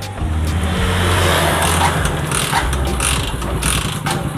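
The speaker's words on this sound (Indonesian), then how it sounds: "Tes starter Dik." Motorcycle engine kick-started after a clutch repair, its steady low idle running loud and close throughout with no talk.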